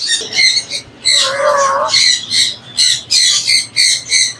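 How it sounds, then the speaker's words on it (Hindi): A male African grey parrot gives loud, harsh, repeated squawks close by at a Sunday bird market in Bahawalpur. The calls come in a quick, rhythmic series of short, piercing bursts. "ये अफ्रीकन ग्रे का मेल है, बहुत ही प्यारा मेल है"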